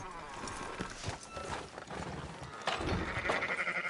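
Sheep bleat amid a busy video game scene, with hoofbeats and movement noise mixed in and the bleats partly buried by the surrounding clatter.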